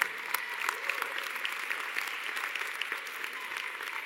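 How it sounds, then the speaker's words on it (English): Audience applauding family members of graduates at a graduation ceremony, a steady, dense roar of many hands clapping throughout, fairly distant and without any talk. "I ask that you join me in a round of applause for your family members who made this day possible"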